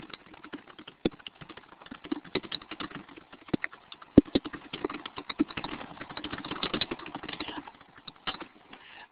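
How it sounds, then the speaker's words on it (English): Rapid keystrokes on a computer keyboard, a steady patter of light clicks with occasional sharper taps, close and fairly quiet, with no voices. "I'm going to type really quickly to Pal."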